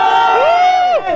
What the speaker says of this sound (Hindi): बस भीड़ होना भी शुरू हो चुकी है।